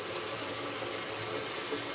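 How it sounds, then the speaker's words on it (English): Water runs steadily from a sink tap while a shaving brush is about to be soaked, a constant close hiss of flowing water with no pauses and no voices. "I know that people don't like the water running"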